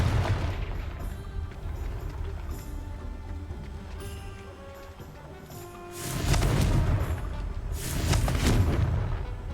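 A Confringo fire spell in Hogwarts Legacy lands as two loud, booming blasts, each a burst of explosive noise over a steady bed of game music and ambience.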